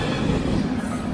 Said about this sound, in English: And there you go, a nice day train